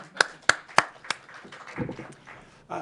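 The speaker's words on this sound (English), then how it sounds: "Let's give Al a round of applause." Applause for a speaker at a New York governor's COVID-19 briefing: a few sharp, separate claps ring out in a steady beat, then a murmur of low voices and shuffling, fairly faint overall.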